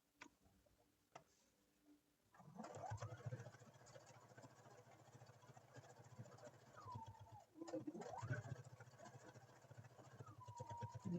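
A quiet sewing machine runs a 1/8-inch seam around the edge of a quilted panel placemat, a soft even ticking hum that starts after a few faint clicks and pauses once briefly midway.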